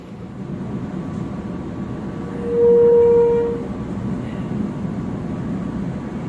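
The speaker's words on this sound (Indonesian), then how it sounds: "Kereta api Gaya Baru Malam Selatan sudah berangkat dari stasiun Lempuyangan." The Gaya Baru Malam Selatan passenger train pulls out of Lempuyangan station in Yogyakarta, a steady low rumble with a single loud horn blast of about a second partway through.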